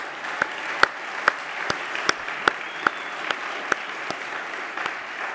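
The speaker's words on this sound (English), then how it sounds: "we owe them all a round of applause for the pitches" Applause at a pitch event, heard as sparse, evenly spaced sharp claps over a soft crowd background.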